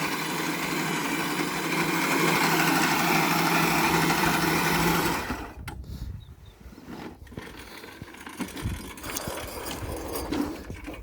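Ozito PXC 18V 380mm cordless cylinder lawn mower, modified to be self-propelled, running with a steady close whirring hum for about five seconds, then cutting off into quieter clunks and rustling outdoors.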